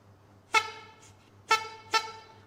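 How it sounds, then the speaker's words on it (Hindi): Three short honks from the horn of a small wooden toy car, bright and buzzy, the first two about a second apart and the third quickly after. "हॉर्न आप देखेंगे, हॉर्न।"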